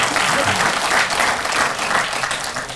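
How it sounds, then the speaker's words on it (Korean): Steady applause from a crowd at an association's annual general meeting, sustained clapping at even loudness for a few seconds before starting to fade. "그분께 좀 박수 한번 보내주시죠"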